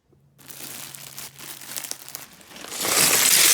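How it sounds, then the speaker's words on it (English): Plastic Lego bags crinkle and crumple continuously, growing louder and harsher toward the end as they are torn open close by. "Now I'm gonna open these Legos just to see exactly what we got."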